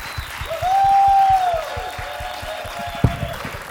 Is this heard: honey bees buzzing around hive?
no